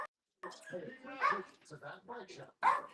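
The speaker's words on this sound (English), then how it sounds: "Is that your dog?" A dog barks and yips in short bursts, mixed with people talking nearby on an indoor call.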